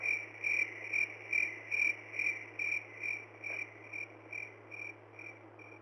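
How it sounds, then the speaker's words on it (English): Crickets chirp steadily in a quiet indoor space, regular pulsing trills close by with a constant low hum underneath and no voices. "herding the crickets back into their cage as we speak"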